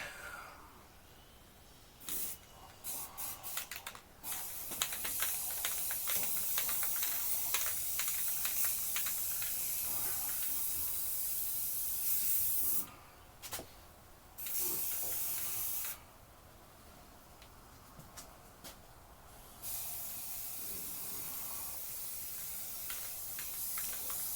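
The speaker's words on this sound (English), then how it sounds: "Now we're gonna go ahead and start priming it." Spray gun applying gray primer to a 1926 rail during restoration: long sustained hissing passes broken by short pauses, with clicks and taps between sprays, fairly close in a workshop.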